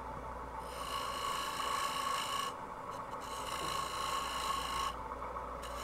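A turning tool cuts beads into a spinning wood workpiece on a lathe, giving a steady, continuous raspy scraping with faint tonal whine, fairly close and constant throughout with brief dips in intensity.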